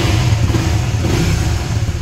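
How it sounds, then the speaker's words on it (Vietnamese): A Honda Winner V3 motorcycle engine with an aftermarket exhaust starts and runs loud and close, its low rumble rising and falling steadily as it revs. "Rồi để em nổ máy cho anh em nghe tiếng xe ha."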